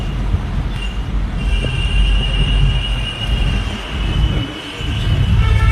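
A passenger train standing at a railway station before a journey to Jammu, its low steady rumble and idling drone continuing throughout with faint high squeals and platform ambience, no talking.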